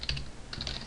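Fingers tap out Java code on a computer keyboard, a quick, close cluster of crisp keystrokes in two short bursts, with no talking.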